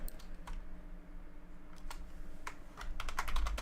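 Typing on a computer keyboard in a home streaming setup: a rapid, irregular run of crisp key clicks close by that grows denser and a little louder toward the end, with no one speaking.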